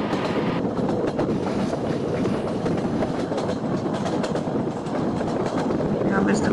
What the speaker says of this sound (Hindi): देखो आईएसएफ राजधानी की क्रॉसिंग होने जा रही है